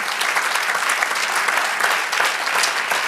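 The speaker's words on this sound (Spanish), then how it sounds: "Dele aplauso al Señor." A church congregation applauds the Lord during a sermon, a thick burst of continuous clapping, loud and close, lasting the whole moment.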